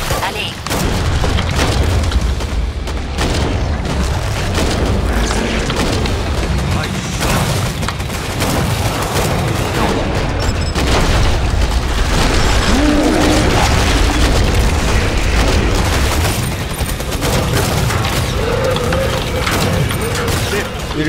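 Grenade blasts in Killing Floor 2 during co-op play, a dense run of loud booms and bursts layered with gunfire and mechanical clatter, with voices talking over the chaotic, sustained action.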